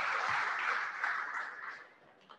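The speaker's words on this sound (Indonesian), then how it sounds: "Kita berikan tepuk tangan yang meriah buat Rumah Sakit" An audience applauds at a hospital anniversary celebration, a soft even wash of clapping that fades out over about two seconds, with no talk over it.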